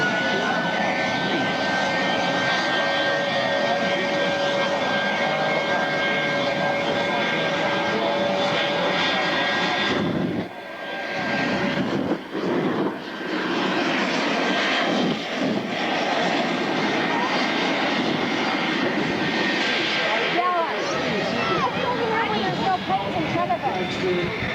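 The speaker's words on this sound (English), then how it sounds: "race an airplane in a quarter of a mile and allow the airplane to pass him at about 175 miles an hour" An airplane at an air show roars past at about 175 miles an hour, a loud sustained engine drone that dips briefly midway and then swells again, with a voice speaking over it.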